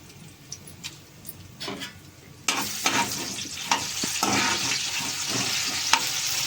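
Dried red chillies and garlic hit hot oil for tempering a raw wood apple chutney. A few quiet clinks and taps come first, then a sudden loud, steady sizzle crackles on continuously.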